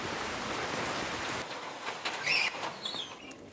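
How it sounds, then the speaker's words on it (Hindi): Heavy torrential rain in northern Karnataka pours as a loud, steady hiss, then drops to a softer wash with a few brief chirps and splashes, no speech. "उत्तरी कर्नाटक में जोरदार बारिश हो रही है"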